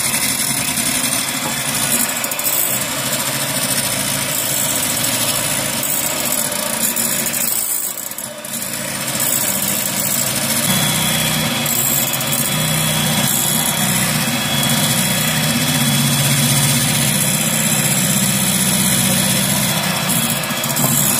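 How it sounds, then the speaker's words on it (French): An electric mixer whips egg whites as hot sugar syrup goes in for nougat glacé, a loud, constant high motor whir with a short dip in the middle, no talking. "Maintenant, je vais le mélanger à mes blancs en neige."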